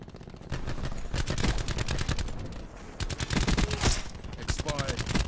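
Rapid automatic gunfire from a VMP submachine gun in a Call of Duty team deathmatch, dense bursts crackling almost continuously with a brief pause midway, loud and close, mixed with other game effects.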